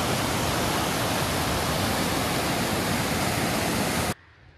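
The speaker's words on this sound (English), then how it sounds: "There's a waterfall" Steady, loud roar of a waterfall in Great Basin National Park, a dense hiss of rushing water that cuts off abruptly near the end.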